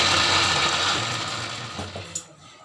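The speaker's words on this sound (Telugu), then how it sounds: "ఉట్టి గోంగూరే మిక్సీ జారీలో వేసి ఒక రౌండ్ తిప్పుతున్నానండి ఫస్ట్." A kitchen mixer grinder spins plain gongura leaves in its jar for pickle, a loud, steady whirring drone that winds down near the end with a small clatter.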